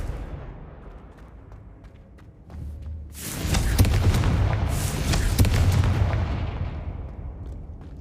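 Confringo spell explosions in Hogwarts Legacy burst loudly and close, two heavy booming blasts a second or so apart with crackling tails that fade away slowly, following a quieter rumbling lead-in.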